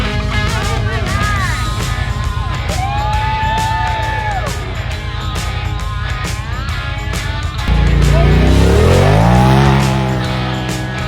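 Truck engine roaring as it climbs a sand dune at Dumont Dunes, loud and continuous with revving swells and a heavier surge near the end, while people shout and talk over it.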